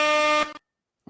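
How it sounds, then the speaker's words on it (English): An air horn blast for a DJ celebrating Chelsea's 1-0 win over Everton, a loud, sustained harmonic blare of about half a second that cuts off abruptly, followed by silence and a brief faint noise. "Air horn."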